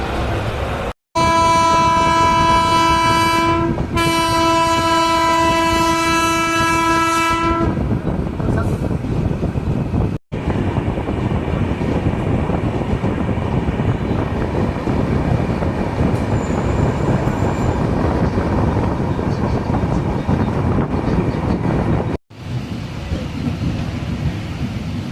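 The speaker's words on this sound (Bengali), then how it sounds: "ট্রেন অবশেষে এসে পৌঁছালো" A train pulling into a station on the Kolkata–Ghatshila route sounds a loud sustained horn blast, then a long heavy rumble and roar of the carriages rolling past close by.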